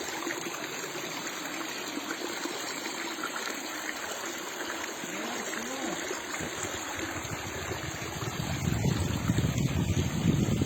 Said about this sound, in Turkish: Şöyle su sesini özleyen var mı su sesini?